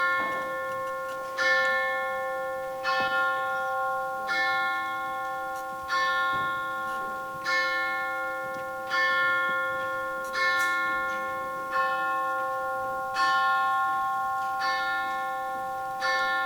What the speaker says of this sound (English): The bell struck 12.